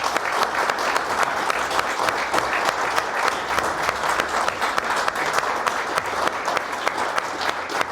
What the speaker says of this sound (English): Let's give a round of applause for Colin.